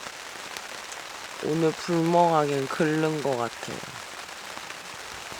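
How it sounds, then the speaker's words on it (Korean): Heavy rain beats on a tent at a campsite in Chungju, a dense continuous patter heard close. Someone speaks briefly over it. "소나기인 줄 알았는데 생각보다 비가 많이 와요"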